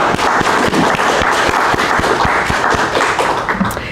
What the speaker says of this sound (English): So let's have a round of applause for all of them